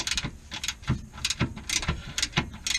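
Ratcheting wrench clicks while a bolt is loosened and removed on a Mazdaspeed 3, in quick repeated bursts of sharp close metallic clicks with short pauses between strokes.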